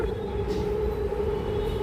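A train rumbles past nearby with a steady low roar and a sustained wheel hum, loud and continuous with no talking.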